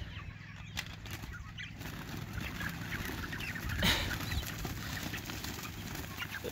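Cornish cross meat chickens on pasture cluck and shuffle at feeding time, a soft busy flock sound with some wing flapping, fairly faint and steady throughout.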